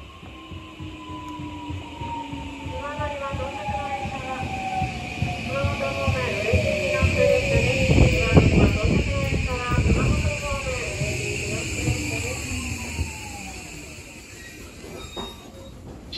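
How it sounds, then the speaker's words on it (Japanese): A JR 821 series electric train with a Mitsubishi SiC inverter pulls into and runs through a station, its inverter whine gliding up and down over loud, close wheel rumble and brief rail squeal, with a public-address voice in the background. "2番乗り場に列車が到着します。"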